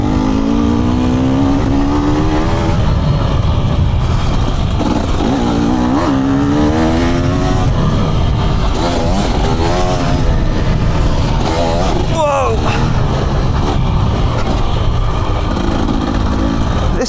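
A two-stroke dirt bike engine drones steadily while the rider is underway, its pitch rising and falling with throttle changes and a sharp rev near the end, loud and close throughout with no voices.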